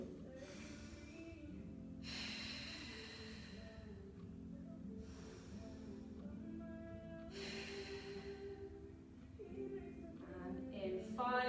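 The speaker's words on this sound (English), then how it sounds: "Nice deep breaths in through your nose" Deep breaths drawn in through the nose while holding a Pilates plank: two long, airy inhales, each a couple of seconds, rising over soft background music.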